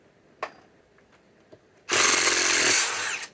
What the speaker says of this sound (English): let's run the RYOBI